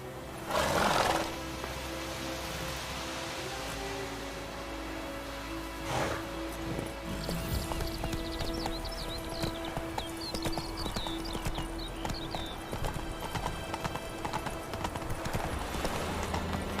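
Geralt's horse Roach galloping in The Witcher 3, a steady rapid clip-clop of hooves running throughout, with a brief snort early on and faint ambient game music underneath.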